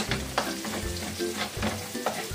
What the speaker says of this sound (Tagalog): Tayo po ay maggisa na. Ang bawang. Golden brown lang po natin ito.